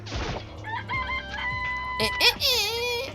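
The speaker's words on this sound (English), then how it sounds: "Dude, yes, it's a chicken." A chicken sound effect from the Danganronpa video game plays close and loud, with rooster-like crowing and clucking calls over game music.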